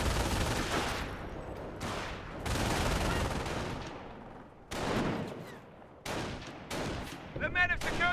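Bursts of battlefield gunfire from the Company of Heroes real-time strategy game, rifle and machine-gun volleys crackling in dense clusters with brief lulls between them, loud and continuous across the scene.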